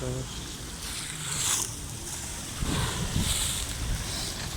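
Rough sea waves breaking on a summer evening shoreline in Şarköy, a continuous rushing wash with gusty wind noise and a couple of louder surges.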